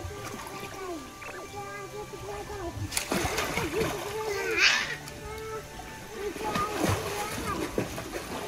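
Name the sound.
child swimming and splashing in a pool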